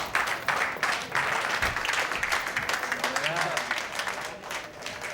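Applause from a group in a police station setting after a tally of 398 arrests, a steady broadband patter of clapping that carries on throughout with some voices and cheering mixed in.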